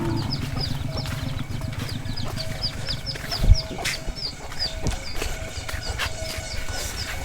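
Chickens cluck and chirp continuously nearby, with scattered bird calls layered over a low background drone and a brief thump midway.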